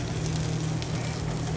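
Butter sizzling in a hot pan alongside catfish, a dense steady hiss with a low hum beneath, close and continuous for a brief moment.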